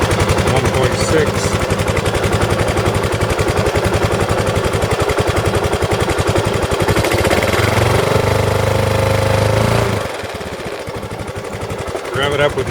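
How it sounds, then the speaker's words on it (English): A Kawasaki KLR motorcycle engine runs loud and close with a rapid, pulsing thump that holds steady, then drops off sharply near the end to a quieter idle. "Rev it up with no change"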